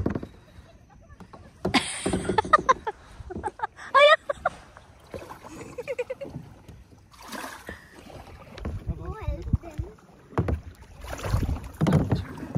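Kayak paddled through mangroves at Delta Point Beach near Udupi, with intermittent paddle splashes and bumps close to the microphone, wind buffeting, and voices talking and calling out between strokes.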